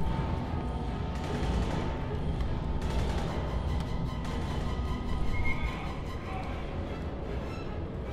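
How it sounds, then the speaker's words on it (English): Gunfire in the video game Aliens: Colonial Marines, a dense, continuous run of rapid shots and explosive bursts filling the whole stretch, with a player talking over the action. "Can you stop shooting me?"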